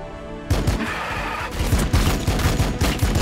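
Rapid bursts of gunfire from the Warhammer 40k Battlesector video game, loud and dense, rattling in repeated volleys with heavy booms after a quieter opening moment.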